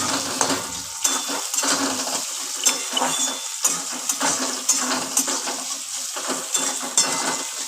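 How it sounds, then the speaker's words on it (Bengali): Onion, garlic and green chilli fry together in a pan for a breakfast pasta, with steady sizzling under repeated scraping stirs and light clinks of a utensil against the pan. No one speaks. "পেঁয়াজটা রসুনটা কাঁচা লঙ্কা একসঙ্গে আমি ভেজে নিচ্ছি"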